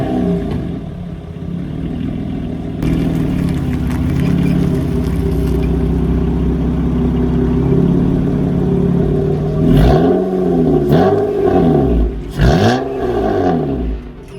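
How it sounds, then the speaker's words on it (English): An Acura TL Type S fitted with a J-pipe exhaust drones at a steady raspy idle, then is revved hard several times near the end in sharp, rising roars that fall away again. "I'm just going to show you guys a clip of how my exhaust sounds on revs."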